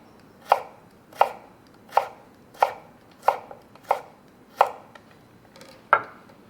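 A kitchen knife chops stacked vegetables into julienne matchsticks on a board, eight crisp, evenly spaced strikes close up, with quiet between them and no talking.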